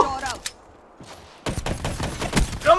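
Single-shot gunfire from a Black Ops 3 multiplayer match, with a sharp report early, a quieter stretch, then a burst of dense, loud shots and game noise as someone talks over it.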